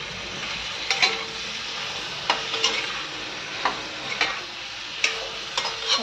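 Onions and mutton fry in a pan under a steady sizzle, punctuated by regular scraping clinks of a spatula stirring every second or so, no voices.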